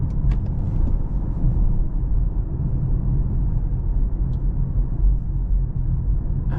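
Toyota C-HR+ 2026 front-wheel-drive electric car with a 77 kWh battery accelerating on a night drive, a steady low rumble of road and tyre noise with a faint motor hum throughout, no talking.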